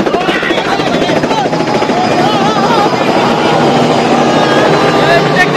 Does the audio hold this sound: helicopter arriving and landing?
yes